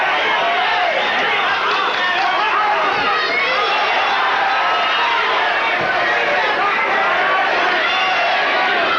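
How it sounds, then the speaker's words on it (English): Fight crowd at a Benny "The Jet" Urquidez versus Yoshihisa Tagami kickboxing bout, loud and continuous shouting and chanting from a packed arena, a dense wall of voices throughout. "Crowd comes alive, shouting Benny's name"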